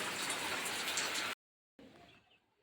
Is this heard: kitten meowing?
no